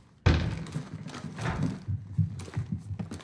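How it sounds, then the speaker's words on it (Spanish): Footsteps thud on a rooftop overhead in the 2019 Call of Duty: Modern Warfare campaign, a series of dull, uneven impacts following one sharp knock, heard amid game ambience with no talking. "se escuchan pasos en la... Ahora sí que literal, pasos en la azotea"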